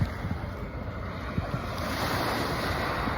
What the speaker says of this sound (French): Des petites vaguelettes de rien du tout.